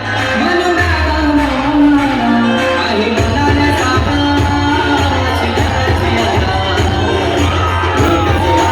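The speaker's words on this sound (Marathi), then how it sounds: "सर्व नागरिकांना भाविकांना विनंती आहे, कृपया टाळ्या वाजवून त्यांची प्रशंसा वाढवावी." A crowd at a traditional Dahi Handi festival in Mankhurd cheers for a govinda team, with continuous loud cheering and whoops over a pounding rhythmic beat close by.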